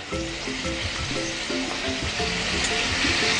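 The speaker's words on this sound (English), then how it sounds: "A little bit oil, meat, and then we're gonna put onions." Meat and onions frying in oil give a steady, close sizzle throughout, with a faint melodic tone running underneath.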